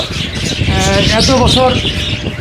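Budgerigars in an aviary chirp and chatter in a busy, continuous twitter close to the microphone, heard under people talking.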